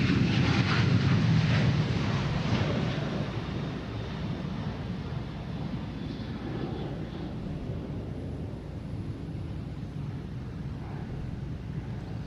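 American Airlines Boeing 737-800 departing Boston Logan for Orlando, its loud engine roar strongest at the start and then settling into a fading, steady rumble as it moves away, with no voices.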